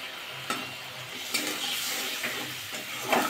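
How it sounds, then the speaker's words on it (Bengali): Spice masala with tomato and green chili frying in a pan, a continuous hissing sizzle with a few sharp scrapes of a spatula stirring, close and fairly quiet, no talking. "দিয়ে ভালো করে কষিয়ে নেবো মশলাটা"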